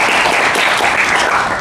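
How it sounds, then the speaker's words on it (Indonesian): An audience applauds in a loud, continuous wash of clapping at an event, sustained and even throughout. "Terima kasih, tepuk tangan semuanya."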